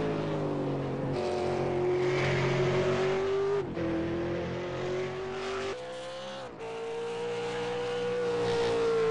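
Race cars lapping the Zolder circuit in the online racing game v8sonline, a loud, continuous engine drone that climbs in pitch through the gears, with brief drops at each shift and lift, and no talking.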